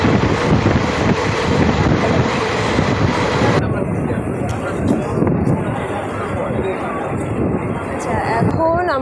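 Maa Tara Express rolling into Guskara on its way from Kolkata to Bolpur Santiniketan, a steady rumble of wheels and carriages with gusting wind across the microphone and voices faintly beneath.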